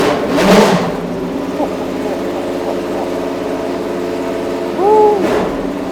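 Judd V10 engine in a one-of-one Lola B98 Le Mans prototype, revving in short blips: a rising burst near the start and another late, with a steady harmonic idle humming between them.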